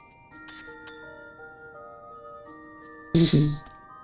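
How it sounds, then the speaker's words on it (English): A bell in the game Final Fantasy XIV rings out with several sustained, overlapping chime tones, followed by a louder brief burst of noise, all at moderate volume. "I should just stand closer to the bell when I ring it."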